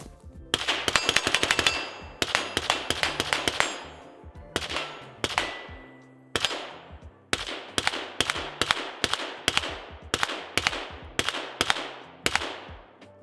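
A suppressed Knight's Armament CQB 11.5 rifle in 5.56mm with a KAC QDC/CRS-PRT suppressor fires long rapid strings of close, sharp shots, each burst followed by a short pause before the next.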